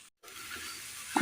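A mashed jackfruit seed mixture with a little turmeric simmers as its water boils off, giving a soft, close sizzle and bubbling that starts after a brief silence and swells at the end.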